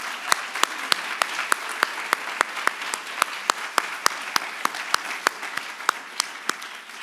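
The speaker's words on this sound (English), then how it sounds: "Please join me in giving a round of applause to all of our competitors" Audience applause for competitors at a university Three Minute Thesis competition, a steady wash of clapping with a few sharp, close individual claps standing out at a regular pace throughout.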